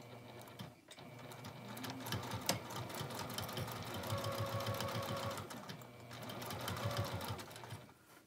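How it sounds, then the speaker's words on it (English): A sewing machine runs steadily, stitching around the top of a small fabric basket, with a continuous close mechanical whir and rapid needle clatter that briefly pauses and resumes. "I'm going to stitch all the way around and then I'm going to be taking those stitches out at the end."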